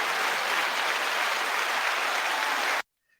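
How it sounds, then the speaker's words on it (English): A crowd claps steadily in sustained, dense applause that cuts off abruptly into silence. "You didn't know you were getting applause, did you?"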